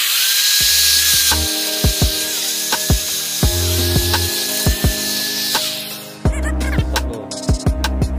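A hand drill used as a grinder on a wooden container whines in repeated short bursts, starting and stopping several times with sharp clicks between runs. The grinding whir is loud and close throughout.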